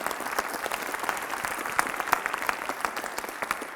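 A round of applause from a student leadership audience at Fossil Ridge, moderately distant sustained clapping with scattered sharper individual claps throughout.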